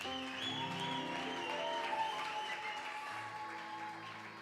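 A church congregation at a praise and worship service applauds, a continuous wash of clapping that holds steady for several seconds with music playing underneath.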